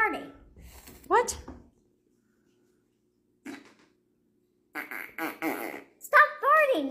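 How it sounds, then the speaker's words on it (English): A short fart sound plays between bursts of talking, with a child's and adults' voices around it and a silent gap in the middle. "Mom, stop farting."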